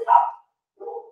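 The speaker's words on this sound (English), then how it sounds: "But I apologize if you can hear my dogs barking." A few dogs bark indoors, two short barks with a gap, fairly near and loud over a quiet background with no talk.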